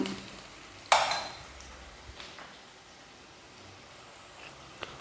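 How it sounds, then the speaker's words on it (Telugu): Onions fry in a pan for mutton kheema, a soft continuous sizzle with a sharp scrape of a utensil stirring near the start and a few light clicks later. "ఈ ఉల్లిపాయలు అనేది ఇలా ఫ్రై అయితే సరిపోతుంది."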